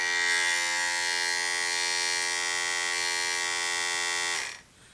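A GEREFET 2-in-1 pet grooming vacuum and dryer runs at full power for the first time, a loud, steady high-pitched whine with a fixed tonal hum that holds unchanged for about four seconds before cutting off abruptly.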